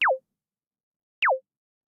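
Surge XT software synthesizer produces a synthesized kick drum, two short sweeping thumps about a second apart, dry and isolated against silence.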